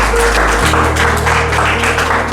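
An audience at a direct selling career program claps for a diamond-level achiever, a steady, dense wash of applause filling the room close by, with a low hum running underneath.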